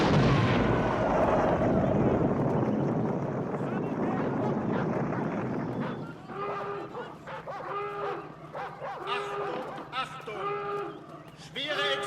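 A heavy explosion in a war film set around the 1944 plot to kill Hitler roars as a loud, sustained low rumble for about six seconds, then fades under raised voices calling out.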